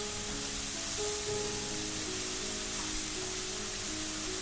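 Grated radish (mooli) sizzling steadily in a pan as it cooks for paratha filling, a constant close hiss with no breaks and no one talking.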